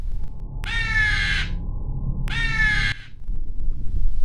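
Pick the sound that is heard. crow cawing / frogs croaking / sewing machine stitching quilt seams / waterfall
crow cawing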